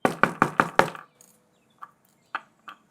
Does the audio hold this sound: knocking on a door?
yes